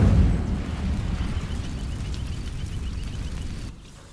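The Incendio fire spell catching on dry vines in Hogwarts Legacy, a loud low whooshing roar of flame that starts strong, rumbles steadily, then cuts off abruptly near the end.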